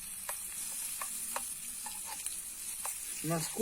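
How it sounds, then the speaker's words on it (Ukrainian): Steady crackling sizzle of pork fat frying in a small compact pan heated by alcohol fuel tablets outdoors, with occasional louder pops over a continuous hiss. "Дві таблеточки спирту і у вас готове смажене сальце."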